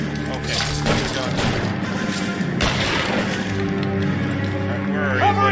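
Sustained gunfire in the L.A. Noire video game, dense crackling bursts and heavy thuds in a loud firefight, with shouted voices over the shooting.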